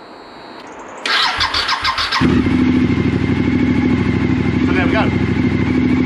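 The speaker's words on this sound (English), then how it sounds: "what we need to do next is just fire up the bike and make sure she runs" A Suzuki SV1000 motorcycle cranks with a rapid churning starter, then catches and settles into a steady, loud, close idle for several seconds; someone speaks briefly as it runs.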